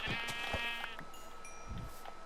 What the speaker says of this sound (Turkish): Aha dur koyun sesi geldi.